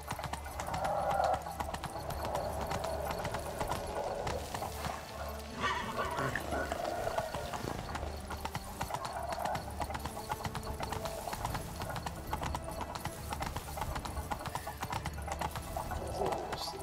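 Horse hooves clip-clop at a steady riding gait in The Witcher 3: Wild Hunt, a continuous rhythmic trot under intermittent talk, with a brief whinny-like tone near the start.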